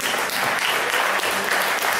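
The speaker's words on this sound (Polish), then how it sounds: "jeszcze raz gromkie brawa, bo to jest miejsce pierwsze, więc i brawa należy się podwójnie" Audience applause at a song contest awards ceremony, a dense, steady wash of many hands clapping for a first-place winner, loud and continuous throughout with no voices on top.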